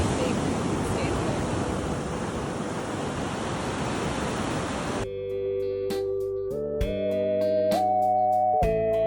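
Ocean waves washing onto a beach as a broad, steady roar of surf for about five seconds, after which it cuts to soft tonal music with no voices.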